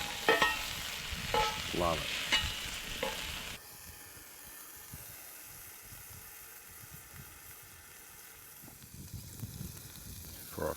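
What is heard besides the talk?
burger sizzling on a campfire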